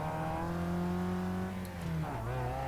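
A Mazda MX-5 engine revving hard under near-full throttle on a track, a steady close droning note that dips and climbs again as the revs change, loud and continuous without talk.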